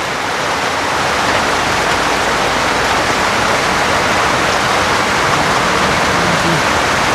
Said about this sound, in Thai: ฝนตกพี่น้องเอ้ยเนาะ